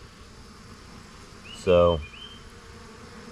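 A bee buzzes briefly and close by at a leaky hose water feeder in a bee yard, then fades into quiet background hiss; a single short word is spoken just before.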